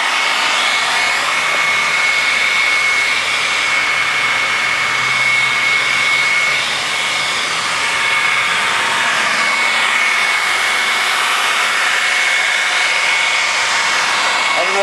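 Hair dryer blowing steadily to dry fresh paint on a wooden heart, a loud continuous whooshing whine held close throughout with no break.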